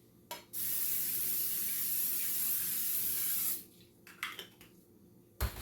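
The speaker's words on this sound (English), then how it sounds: "I have the cooking spray. And we're going to spray the dish." Cooking spray from an aerosol can hisses onto a baking dish for a breakfast casserole in one steady burst of about three seconds, followed by a few soft clinks and handling sounds.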